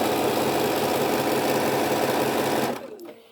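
A sewing machine stitches fabric sections together for a boho heart project, running loud and steady up close for nearly three seconds before winding down and stopping, with no talk.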